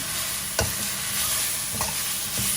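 Cabbage, chicken giblets and spring onion stir-fried in a pan, a steady close sizzle broken by a few sharp scrapes of the spatula as the food is tossed.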